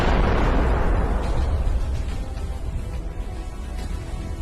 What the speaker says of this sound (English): With a perfect strike, the Ukrainian tank destroys it.